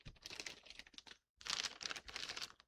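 A plastic bag is crinkled and handled during a fabric craft session, giving quick, close crackling bursts in two clusters split by a brief pause, fairly quiet and with no voices.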